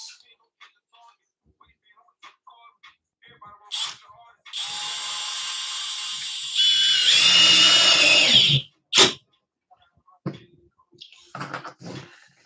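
A power drill whirs for several seconds as a 2.5-inch deck screw is driven into plywood, its pitch rising near the end, with a few clicks and knocks before and after.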